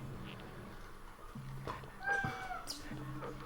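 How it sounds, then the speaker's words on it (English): A cat meows at moderate volume a couple of times over a low background hum, sounding like a drawn-out call rather than a soft mew. "See, Sylvester doesn't have tiny meows"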